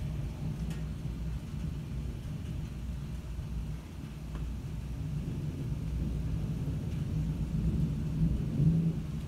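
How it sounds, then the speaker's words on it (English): Constant low rumbling thunder rolls through a severe thunderstorm in southeast Michigan, a steady loud roar that swells slightly toward the end, with possible rain beneath and no talking. "It's constant thunder."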